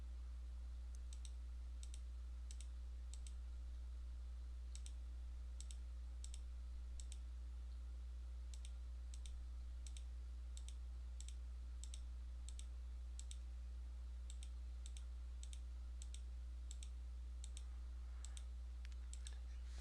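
A computer mouse is clicked repeatedly at an irregular pace, giving many faint, crisp clicks that are sometimes paired. A steady low hum sits underneath.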